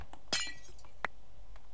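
Glass blocks breaking in the modded Minecraft pack Skyfactory 2.5, two crisp shattering clinks about a second apart over faint background hum.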